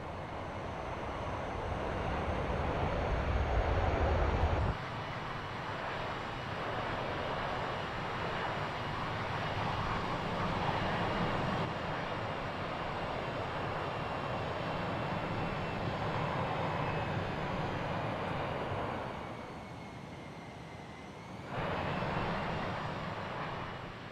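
A Toliss A321 airliner landing on a runway in a flight simulator, giving a steady, loud broadband roar of engines and rolling that runs throughout, dips briefly near the end, then swells again.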